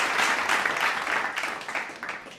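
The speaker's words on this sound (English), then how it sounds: "give you an applaud for that" Applause from an audience at a book review talk show, a steady dense patter of clapping throughout, moderately loud and alone with no voices.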